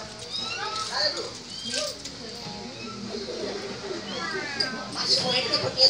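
Children mimic a kitten's meow with voices in several short, high mewing calls, mixed in with chatter and quiet talk.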